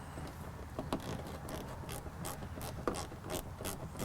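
A hand ratchet snugs the bolts on a Bushwacker fender flare on a pickup truck, quick clicking strokes in short bursts, close and fairly quiet, with no talking.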